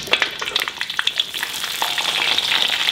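Broken-up chili peppers fry in hot oil for a spice paste, giving a steady, close crackling sizzle with small pops and no talking.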